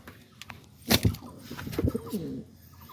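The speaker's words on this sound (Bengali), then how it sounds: "ক্রস ব্রিডের কবুতর অনেক ভালো মানের কবুতর এগুলো" Cross-breed pigeons in a loft with their young give a few close, soft throaty coos in short bursts, with a faint rustle between calls.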